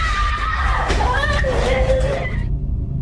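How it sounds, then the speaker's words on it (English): A child screams from somewhere inside a house, a loud, sustained high-pitched wail that wavers in pitch for about two and a half seconds, then cuts off abruptly. "Out of nowhere, the sound of a screaming child is heard from somewhere inside the house."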